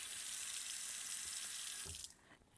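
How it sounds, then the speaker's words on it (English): Water runs steadily from a kitchen sink tap as hands are washed, a constant broadband rush that cuts off near the end, leaving quiet. "Just gonna wash my hands really quickly."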